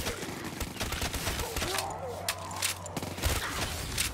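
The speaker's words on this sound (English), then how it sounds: "Oh, this gun is so satisfying to shoot." Rapid bursts of modded gunfire in the Kino der Toten zombies map of a video game, loud and close, with game effects and a voice in the background.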